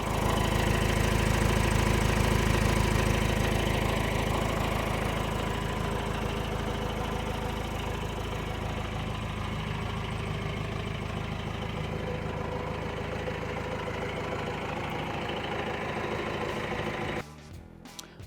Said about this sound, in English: that diesel purring